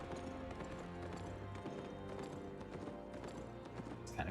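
A donkey mount gallops in the video game Albion Online, its rapid steady clip-clop of hooves running continuously over a soft background of game music.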